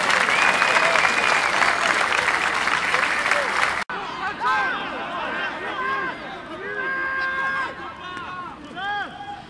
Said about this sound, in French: les applaudissements viennent fort